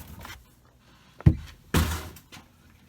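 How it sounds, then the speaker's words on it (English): A house door bangs shut twice in quick succession, two sharp, close thuds with a short rumbling tail, surrounded by quiet room tone. "Shut the door."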